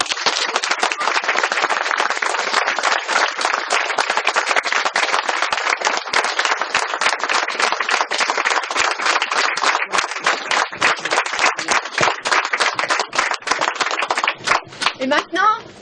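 Sustained dense applause from an audience celebrating the 10th anniversary of a small cinema and photography museum in Bueil, loud and unbroken for about fifteen seconds before thinning to scattered claps at the end.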